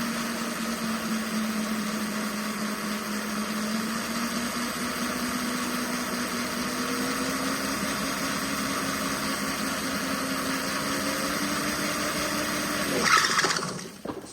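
A vehicle engine in an endurance test idles steadily with a rising mid-pitched hum, then briefly surges louder near the end before dropping off, with no talk.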